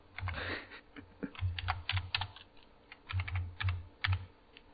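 Computer keyboard typing while configuring a home lab network, with close, rapid bursts of key clicks separated by short pauses.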